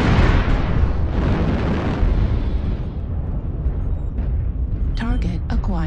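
Missile explosions in the MechWarrior Online video game, a dense continuous barrage of loud rumbling blasts filling the clip, with brief sharper bursts near the end.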